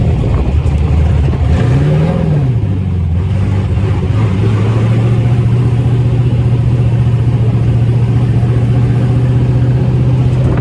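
Engine of the Detroit Speed DSEZ car at a GM autocross event revving hard, a loud sustained roar that swoops up and settles into a steady high drone, heard from inside the car.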